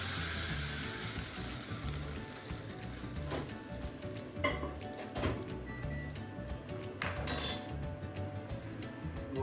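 Hot tarka tempering poured into a chutney while sambar is being made, giving a steady sizzle with light clinks of a metal pan and utensil, close and fairly loud, with no talk.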